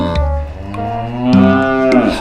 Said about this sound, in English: No, that is a cow mooing.